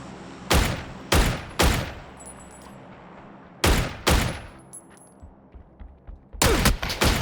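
Loud bursts of FAMAS rifle fire in PUBG, in separate clusters of a few rapid shots each, with short quiet gaps of low background noise between them.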